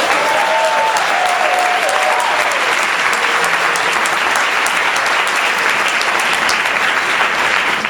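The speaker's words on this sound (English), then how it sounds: "one more round of applause for Rihanna Stanley" A large crowd gives loud, sustained applause at a Martin Luther King Day event in Morristown, with dense clapping throughout and a brief voice heard faintly at the start.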